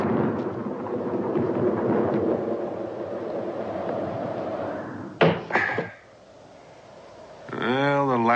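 Thunder cracks and rumbles during a storm, a rolling low roar under speech-like background for five seconds, then a sharp loud crack near the middle, followed by a quieter lull.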